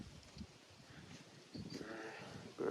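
Goats on an emu farm bleat in a few short calls amid faint farmyard noise, with a louder, closer cry near the end.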